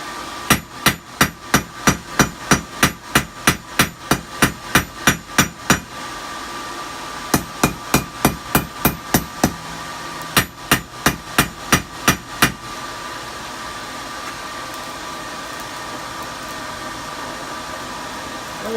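Hammer forging a leaf shape on knife steel, loud rapid ringing blows in three bursts of steady rhythm separated by short pauses, with a constant background hiss and no talking.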